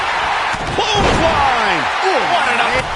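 Heavy body slams and hits in the WWE 2019 wrestling video game land amid crowd noise and loud commentary, several thuds in quick succession.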